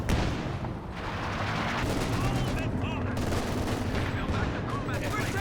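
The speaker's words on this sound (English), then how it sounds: "Comes another walking Stuka barrage." Walking Stuka rocket barrage in the World War II strategy game Company of Heroes 2, a continuous rumbling series of rocket impacts and explosions with crackling bursts layered over it, loud and sustained throughout.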